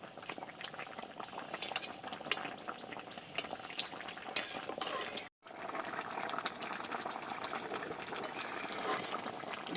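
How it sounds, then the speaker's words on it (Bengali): Dal with greens bubbles at a boil in a pot while a spoon stirs and mashes potatoes, giving soft gurgling and scraping close by, with a brief silent gap partway through. "এবার একটু নেড়ে চেড়ে একটা দুটো আলু গলিয়ে দেব"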